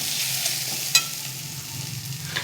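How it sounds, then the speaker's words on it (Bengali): Hilsa roe curry being stirred in a pan with little oil, a steady close sizzle with soft scraping and one sharp clink of the spoon. "তাই একটু নাড়তে হবে বেশি, নাহলে তরকারিটা লেগে যাবে।"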